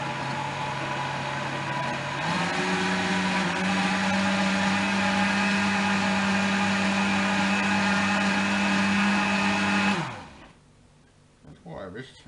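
An electric blender whirs steadily, mixing minced meat for Danish meatballs (frikadeller) in a home kitchen, its motor pitch stepping up after a couple of seconds, then cutting off abruptly near the end, leaving near silence.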